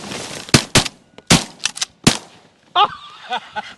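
Shotgun blasts while duck hunting, several sharp, loud reports in quick succession, followed by excited shouting from the hunters.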